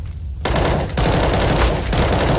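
Loud bursts of rapid gunfire in the video game CS:GO, a quick run of sharp, close shots that breaks off and starts again, with no speech over it.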